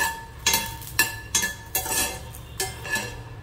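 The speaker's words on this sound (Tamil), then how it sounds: "இது வந்து கருகாம நல்லா வந்து கரட்டி விட்டுட்டே இருங்க" Lotus seeds stirred in a metal pan for a healthy snack, a spoon scraping and clinking against the pan in five or six distinct strokes at an uneven rhythm, close and fairly loud, with no voices.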